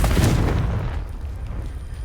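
Confringo spell blasting a pile of debris in Hogwarts Legacy, a heavy close boom with crumbling rubble rumble trailing off over two seconds.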